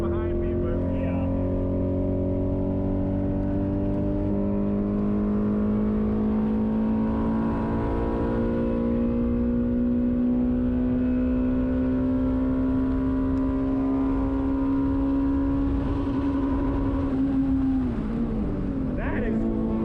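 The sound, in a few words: Audi B5 S4 big turbo car engine revving on race track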